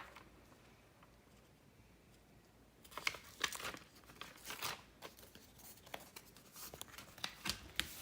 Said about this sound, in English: So peel that off. So this whole sheet is a sticker.